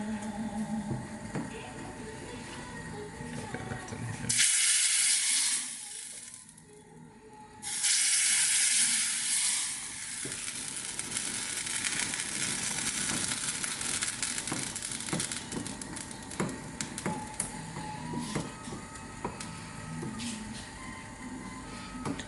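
Dal simmering at a slow boil in a pot while being stirred, a steady bubbling sizzle with scraping that surges briefly louder, then continues at a moderate level.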